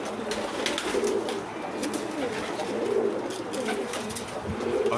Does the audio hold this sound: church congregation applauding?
no